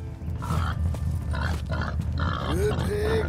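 A hog in Red Dead Redemption 2 gives low, rough grunts and snorts, close and repeated in short bursts over a steady rumbling background, with a voice speaking alongside.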